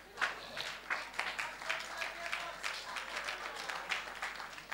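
An audience applauds women at a French-language sermon or talk, a steady patter of many hands clapping at moderate distance with no voice over it.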